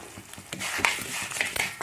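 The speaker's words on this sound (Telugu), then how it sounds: "పచ్చిమిరపకాయలు కూడా వేగిపోయాయి, అన్నీ వేగిపోయాయి. ఎండుమిరపకాయలు వేగిపోయాయి." Green and dried red chillies frying in hot oil for gongura pickle, with a busy crackling sizzle and scraping stir strokes close by, and no one talking.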